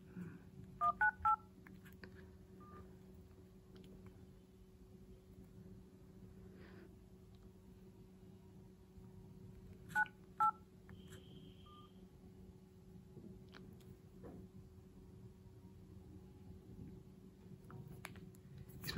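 Dialing tones from a refurbished Lenovo Z1 smartphone during a test call: a quick burst of three keypad beeps, then a long quiet stretch with a faint steady hum, then two more beeps near the end.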